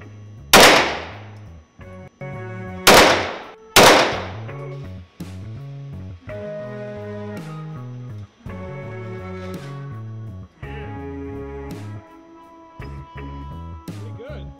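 Gunshots fired at a shooting range from 40 feet: three loud, sharp cracks early on, then several fainter pops, with steady tonal sound filling the gaps between shots.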